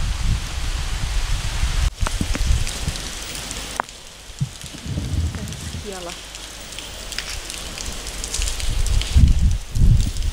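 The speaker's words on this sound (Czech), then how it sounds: "Ty, jak začalo lejt." Rain pours down at a castle in Portugal, a steady broadband wash of drops on surfaces that grows heavier toward the end, with brief voices and a few thumps under it.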